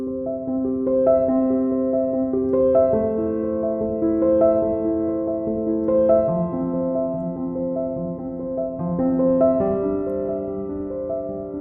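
Piano chords sound at a quicker tempo, sustained tones overlapping in a continuous flowing progression with no talking.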